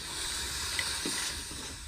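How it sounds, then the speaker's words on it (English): Steam hisses from the wand of a Gaggia Classic Pro espresso machine as it is purged after milk steaming, a steady broad rush lasting throughout at moderate, fairly close level with no talk. "Always purge your wand after steaming."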